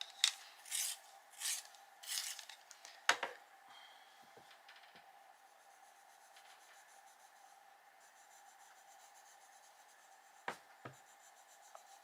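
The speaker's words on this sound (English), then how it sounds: "ultramarine needs sharpening" Ultramarine colored pencil being sharpened while coloring an adult coloring book, several quick close scraping rasps in the first few seconds, then near silence with one more faint scrape near the end.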